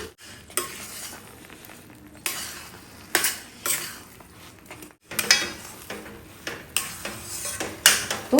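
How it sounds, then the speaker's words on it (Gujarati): Semolina sheera being stirred in a pan right after milk is poured in, with repeated scraping strokes and clinks of a spoon against the metal pan in uneven bursts over a faint sizzle. "હવે આપણે સારી રીતે મિક્સ કરી લઈશું"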